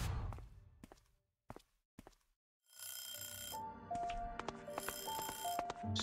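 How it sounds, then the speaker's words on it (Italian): An alarm clock rings in the video game A Space for the Unbound, a bright repeating bell-like jingle that starts midway and keeps going, preceded by a few soft footsteps and thuds in near silence. "Suona la sveglia."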